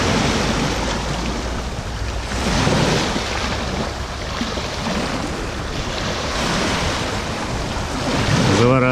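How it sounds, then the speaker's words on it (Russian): Waves roll onto the shore at Vtoraya Rechka at dawn, a continuous broad wash of surf with gentle swells and wind noise, and no voices. "А как приятно сидеть вечерком и слушать звук накатывающей волны."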